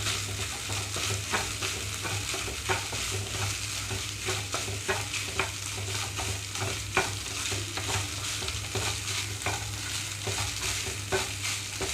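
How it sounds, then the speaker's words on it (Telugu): Garlic rice with chili flakes and salt sizzles in a pan over high flame, stirred in steady regular scrapes against the pan above a continuous frying hiss and low hum, close by with no talking. "చిల్లీ ఫ్లేక్స్ రుచికి తగినట్లుగా సాల్ట్ ఒకసారిగా కలిపేస్తున్నాను"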